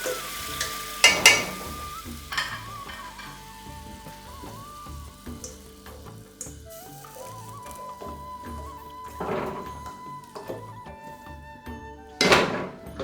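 Korma sauce cooking in a pan over a low flame, a steady soft sizzle and frying hiss with intermittent stirring and scraping clatters, some louder metallic knocks near the start and end.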